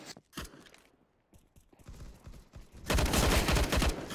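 Counter-Strike: Global Offensive gunfire: scattered footsteps and mechanical clicks give way to a loud, dense burst of rapid shots during the last second or so of the match.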